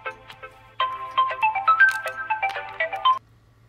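A telephone rings with a bright electronic ringtone melody, loud and close, with repeated tonal notes playing for about two and a half seconds before cutting off, and no voices over it.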